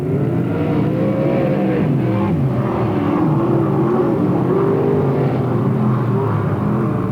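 360 sprint cars race at a weekly program in Marysville, California, producing a loud, continuous engine roar whose pitch rises and falls as the cars accelerate around the track, with no talking.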